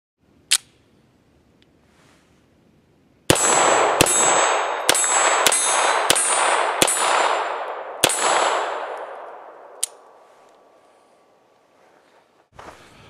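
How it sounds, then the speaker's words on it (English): Seven rapid gunshots from a Star Super B 9mm Parabellum pistol, loud and echoing, fired in a quick even string after one earlier single shot, with a metallic clink afterward and a final shot at the end. "Now let's do a little more shooting."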